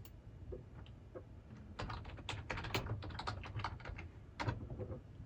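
Someone types a folder name on a computer keyboard, producing a quick close burst of key clicks that settles into a few scattered taps over faint room hum.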